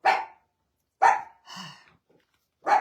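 A dog barks indoors at a passerby, three sharp separate barks with a softer growly huff between them, close and loud in a quiet room.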